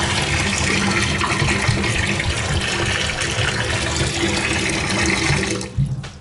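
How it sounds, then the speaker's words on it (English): Water runs strongly from a hose-attachment faucet into a stainless steel kitchen sink, a steady dense rush that continues nearly the whole time and then abruptly cuts off near the end. "stainless steel sink, hose attachment, really good water pressure"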